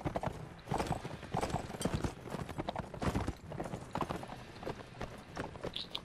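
Horse hooves clip-clopping in a steady galloping rhythm while riding across hilly terrain near a castle in the medieval combat game Mount & Blade, loud and continuous throughout with no talk.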